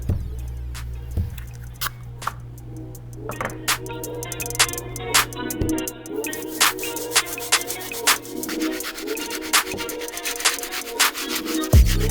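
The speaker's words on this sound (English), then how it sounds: "now it's time to move on to the stiff bristle brush." A stiff bristle brush scrubs Air Jordan 3 White Cement sneakers, giving a close, rough rubbing and scratching with rhythmic strokes and taps over a low background hum.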